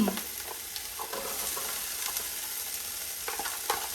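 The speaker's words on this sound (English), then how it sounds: "I'm gonna sear my onions and peppers first, and then put my chicken in." Onions and peppers sear in a hot pan, a steady close hiss and sizzle with a few soft stirring scrapes, no talking.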